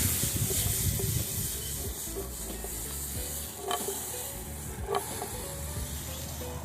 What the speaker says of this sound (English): we'll just pretty much sear those to cook them a little bit